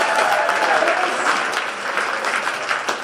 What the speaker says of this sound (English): No reason, clapping and cheering.